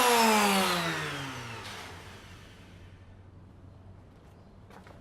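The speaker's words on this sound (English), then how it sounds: "And once more with the power sander." A power sander whirs down from a loud, close spin, its pitch sliding lower and fading into faint background noise over several seconds.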